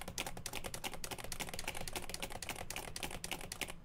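Close, steady keyboard typing with dense, rapid key clicks that run without pause throughout, loud and alone with no voices.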